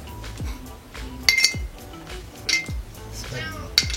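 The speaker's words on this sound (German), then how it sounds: "Jetzt hauen wir in das Ganze ein paar Eiswürfel rein." Ice cubes drop into a glass of mojito, giving several sharp, close clinks and rattles spaced a second or so apart, fairly quiet, with soft handling noise between.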